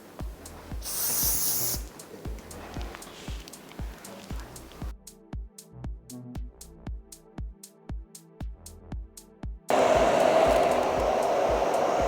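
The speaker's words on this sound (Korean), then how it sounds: "떨어지는 잔머리들은 스프레이를 뿌린 후에 드라이를 이용해서 잡아줄게요." Hairspray bursts and rhythmic clicks over a wedding half-updo give way to a hair dryer on a low setting, whose loud, steady blowing starts near the end.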